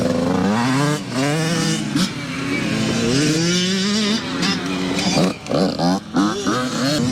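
Yamaha YZ85, Suzuki RM85 and Kawasaki KX85 two-stroke 85cc dirt bikes fire up together, loud and close, their engines revving and blipping in overlapping rising and falling whines.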